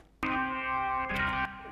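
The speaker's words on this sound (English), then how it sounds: "he puts this organ on, sounds like this" Sustained organ chords ring out after a short silence, with a chord change partway through, full and steady with no voices.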